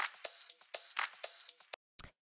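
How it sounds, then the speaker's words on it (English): A short looped disco sample from an old disco track, heavily high-passed so only thin, bright upper content remains, pulsing in quick rhythmic hits before cutting to silence and a final brief stab. "It's just a loop from an old disco track that I put in here, and then I high pass it"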